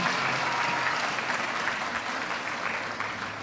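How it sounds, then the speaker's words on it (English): Sustained audience applause for Minister Bindi and her ministry during a presidential address in Guyana, a steady wash of many hands clapping at moderate distance, even in level and fading slightly toward the end. "a big applause."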